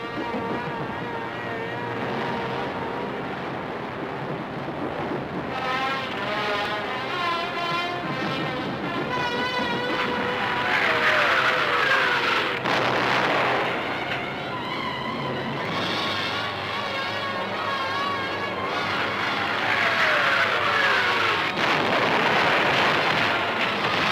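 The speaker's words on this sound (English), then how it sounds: "All the available German night bombers were put into the air." Engines of German night bombers in the Battle of Britain, heard as a sustained droning hum with wavering, beating pitch that swells and fades, set in heavy archival film noise.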